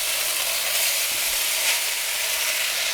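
Oil in a hot wok sizzles steadily as Singapore noodles are cooked, a loud, close, unbroken hiss that runs throughout with no talk.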